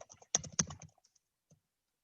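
Quick keystrokes on a computer keyboard while coding in Android Studio, a short close burst of typing clicks that trails off into a few isolated taps and silence.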